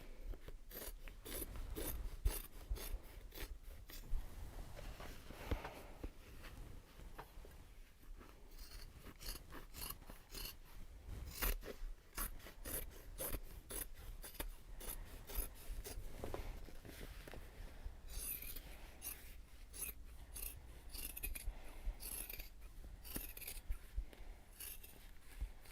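Scissors trim the seam off a Japanese fabric bag, with repeated close snips and rasping cuts through cloth running steadily throughout, no talk.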